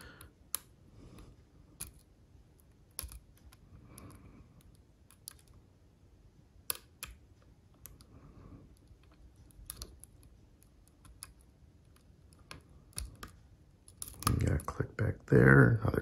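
Picking an Assa Ruko 2 lock, with small sharp metallic clicks and ticks scattered irregularly across the span, close and faint, under soft speech, ending in a louder burst of rattling.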